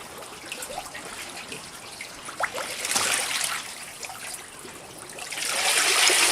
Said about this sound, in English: And the water's splashing inside of it.